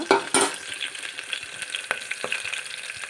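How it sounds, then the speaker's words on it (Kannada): Onion and bay leaf fry toward golden brown in a pan, giving a quiet, steady crackling sizzle, punctuated by a few sharp clinks and scrapes from a spoon against the metal, close by with no speech. "ನಾವು ಈಗ ಇದನ್ನು ಚೆನ್ನಾಗಿ ಸ್ವಲ್ಪ ಗೋಲ್ಡನ್ ಬ್ರೌನ್ ಆಗೋ ಫ್ರೈ ಮಾಡೋಣ"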